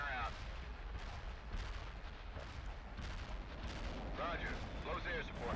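Artillery barrage in the war game World In Conflict: a dense, continuous rumble of overlapping explosions and booms with crackling gunfire, loud and sustained throughout.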